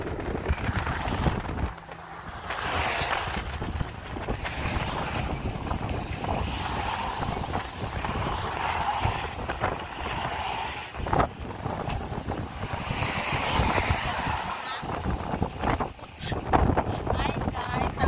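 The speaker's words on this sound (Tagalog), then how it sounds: "kalakas sa hangin" Strong wind gusts roar across a microphone outdoors on a desert edge near Khorfakkan, a steady broadband rush that swells and dips throughout, with waves or surf faintly underneath.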